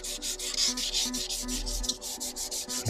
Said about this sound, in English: So I think the next step is actually to key the leather with this 1200 grit sandpaper.